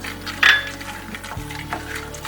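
Chana dal sautéed in a pan for temple-style tamarind rice, a spoon clinking and scraping against the metal over a soft, steady sizzle.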